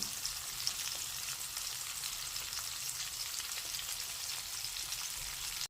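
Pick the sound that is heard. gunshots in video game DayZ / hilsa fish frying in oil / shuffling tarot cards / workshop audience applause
hilsa fish frying in oil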